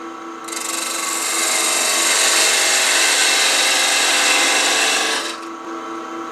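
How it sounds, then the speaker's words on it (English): An 1/8 inch parting tool cuts into a spinning wooden goblet base on a wood lathe, giving one steady, loud, bright rasping scrape of about five seconds that starts and stops abruptly over the lathe's quiet hum. "I'm going to go ahead and mark where the bottom is with a parting tool."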